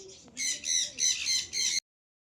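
Pigeons giving harsh, squeaky calls in four close, loud bursts spaced roughly evenly, then silence.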